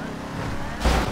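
A car driven in a roleplay video game gives off a steady engine drone, rising to a louder, brighter surge just before it ends.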